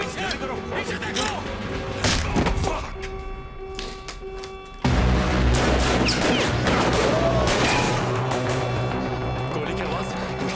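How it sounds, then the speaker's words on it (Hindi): Gunfire crackles in a Hindi-dubbed Hollywood action movie scene. Sharp shots burst over a dense soundtrack of music and effects, and voices speak throughout. "गोली की आवाज।"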